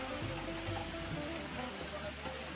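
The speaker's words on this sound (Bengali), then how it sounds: "আর আজকে অঝরে বৃষ্টি।" Heavy rain pours down steadily in Digha, a dense, constant wash of noise filling the whole clip without a break.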